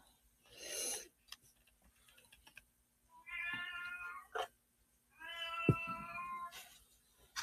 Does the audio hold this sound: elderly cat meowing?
yes